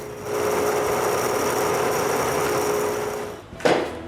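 A wooden-framed band saw runs with a continuous, even motor whir and buzz, ending with a short sharp cutting or scraping sound.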